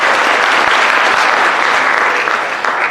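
Audience applause at a senior awards ceremony, steady dense clapping from a crowd filling the room, loud and continuous throughout with no voices over it.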